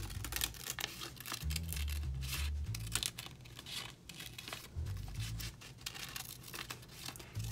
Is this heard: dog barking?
no